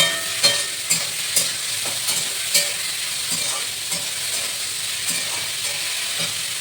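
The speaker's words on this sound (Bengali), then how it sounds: "তো তার মধ্যে এই আলুগুলো আমরা ভেজে নেবো" Potatoes frying in a pan with a steady crackling sizzle, punctuated by repeated scraping stir strokes, close and fairly loud, no voices.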